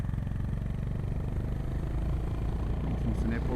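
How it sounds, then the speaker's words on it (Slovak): A 2025 Honda GB350S single-cylinder motorcycle pulls from low speed without a downshift, its engine a steady low, rhythmic thrum with a faint rattle, heard close and continuous under someone talking. "ten motor sa vie krásne vymotať z tých nízkych rýchlostí, aj keď si nepodradíte"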